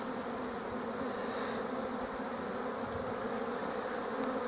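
Honeybees buzzing steadily in an open hive during an inspection, a dense, continuous close drone with no talking.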